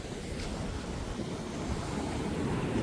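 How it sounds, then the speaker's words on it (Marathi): Steady roar of surf with waves washing and crashing nearby, mixed with wind buffeting the microphone; no voices. "पाण्याचं लाट एवढ्या जोरात येऊन आपटत आहे"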